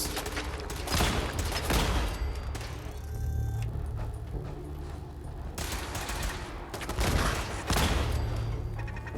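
Gunfire in the video game Fallout 4: dense bursts of rapid shots and booming hits rolling one after another, loud and close, with brief lulls between volleys.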